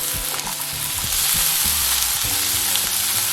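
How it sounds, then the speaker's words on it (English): Frozen mixed vegetables stir-fried on high heat in a pan, a loud steady sizzle broken by repeated scraping and tossing strokes throughout. "still on high heat, I'm going to add my frozen mixed veg. And stir fry for a minute as well."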